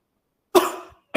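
A single sharp cough, close and fairly loud, followed by the start of another.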